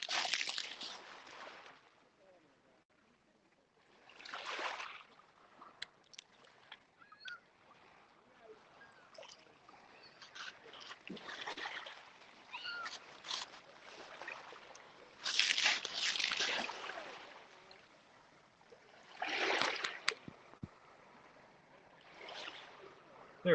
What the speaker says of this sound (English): Give you the sound of the water.